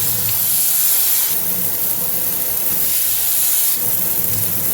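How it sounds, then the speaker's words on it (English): Water runs steadily as rice is rinsed in a bowl to wash off grit, a continuous broadband hiss with faint splashing and shifts as the grains are shaken around. "rinse it off real good"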